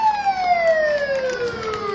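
An old fire engine, Engine 22 from the Dorrington station, wails a siren in a long smooth falling sweep, fairly close and clear with no talk over it.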